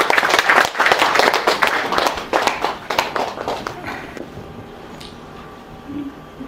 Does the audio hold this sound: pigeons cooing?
no